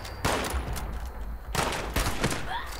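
Gunfire in the online game Fallout 76, several sharp close shots in quick bursts, with a short gap between volleys and a busy game background behind them.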